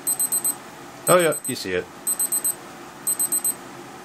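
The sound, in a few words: Casio G-Shock DW-9052 watch timer alarm beeping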